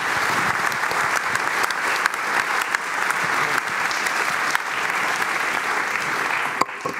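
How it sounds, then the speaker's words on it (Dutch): An audience at a panel discussion applauds steadily for about seven seconds, a dense wash of clapping from many hands that stays loud and even throughout. "Graag een applaus voor het panel."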